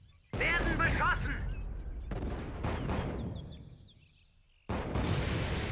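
Heavy gunfire and shell blasts in the World War II tank strategy game Panzers: Phase One, loud bursts of crackling fire that die away and then return, with voices over the battle.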